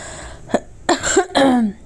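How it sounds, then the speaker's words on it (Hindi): A few short coughs close to the microphone: one brief cough, then two harsher, longer bursts with a throaty rasp, separated by quiet pauses. "बीच में आपको खांसी वांसी जो है थोड़ा बहुत"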